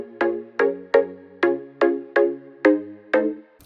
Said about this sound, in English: It's really just a simple saw pluck sound.